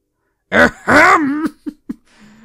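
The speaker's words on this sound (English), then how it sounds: "Maybe I should clear my throat?" A loud, raspy throat clearing in the Phoenix Wright: Ace Attorney Trilogy game, two harsh rumbling pushes followed by a couple of short, quieter grunts, close to the microphone.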